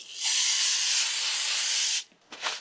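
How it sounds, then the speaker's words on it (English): Brake parts cleaner sprays from an aerosol can onto a flat adapter plate during a Kubota diesel swap into a 1984 Toyota pickup. A loud continuous hiss lasts about two seconds and cuts off sharply, followed by faint handling noise. "So now I'm just going to blow it off. Take some brake parts cleaner."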